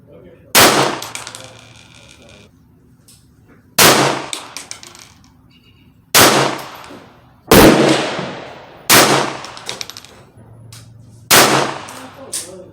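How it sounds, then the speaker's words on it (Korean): A Ruger Mark III .22LR semi-automatic pistol fires five sharp, loud shots at a 25-yard outdoor target, each crack spaced roughly one to two seconds apart with a brief ringing decay and quiet gaps between. "패드로 총알 가지고 다섯 발 쏴보겠습니다."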